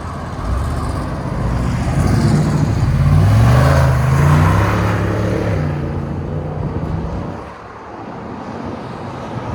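A 2025 Ford F-250 with a 6.8L V8 and Carven R-Series exhaust, mid resonator deleted, revving loudly nearby, its deep exhaust note rising and falling before settling back toward idle.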